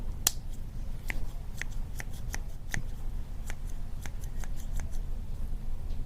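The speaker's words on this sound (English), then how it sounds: "I got myself a nice new sharp pair of garden scissors" A new, sharp pair of garden scissors snips open and shut about a dozen times, crisp metallic clicks close up at an uneven rhythm against a quiet background.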